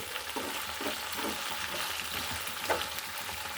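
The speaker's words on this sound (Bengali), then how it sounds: "মূলটা এখন আমি এখানে মাছ দিয়ে দিব" Fish pieces added to a frying pan with radish, oil crackling in a continuous sizzle with soft stirring and scraping sounds close by, no talk.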